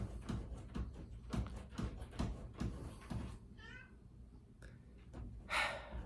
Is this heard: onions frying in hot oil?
no